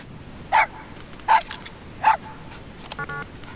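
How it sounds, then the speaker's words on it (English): A wild dog pup in the Metal Gear Solid 5 video game gives three short, evenly spaced high yips, loud and close, followed by a brief electronic beeping. "That wild dog pup. He's a tough little guy."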